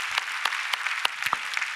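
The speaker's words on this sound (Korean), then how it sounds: "감사와 영광의 박수를 올려드립니다" Church congregation clapping at a worship service, a sparse burst of individual claps, several sharp distinct slaps over a soft continuous patter, fairly close.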